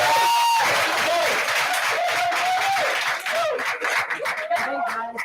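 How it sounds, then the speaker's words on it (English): An audience claps and cheers to welcome a speaker at the closing ceremony of a women's build event. The clapping is loud and sustained, with whistles or whoops rising over it before it thins out toward the end. "let's give a round of applause and welcome Courtney Walker"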